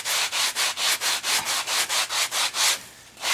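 Sand is rubbed off the Mod Podge-coated edge of an acrylic pour painting in about a dozen quick, even, close scraping strokes. The strokes come in a steady rhythm and then stop.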